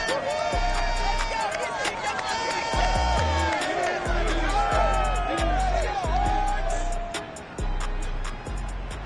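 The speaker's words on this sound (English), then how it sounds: "this crowd enthusiastically cheering on their Texans as they emerge from the locker room" Virtual stadium crowd in Madden NFL 22 cheering loudly for the Texans as they come out of the locker room at a Houston game against the Jaguars, a continuous roaring wash with whoops, thumping low beats and music layered over it.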